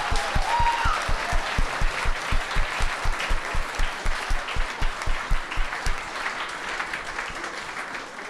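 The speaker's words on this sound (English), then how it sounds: "Let's give a round of applause to best cohort ever." Audience at an awards event applauding a cohort, a full round of clapping whose rhythm syncs into regular unison beats, then thins out and fades near the end.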